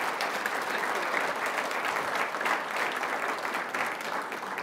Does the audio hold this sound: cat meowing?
no